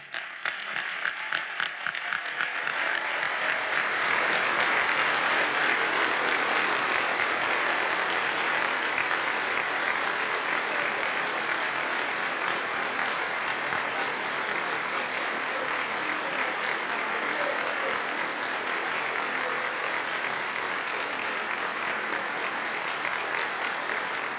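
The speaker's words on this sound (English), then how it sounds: "if we could get all of the honorees to rise and receive our hearty applause" Hearty audience applause for honorees standing at a university honors convocation, a dense, sustained wash of clapping that starts with a few scattered claps and holds steady for over twenty seconds.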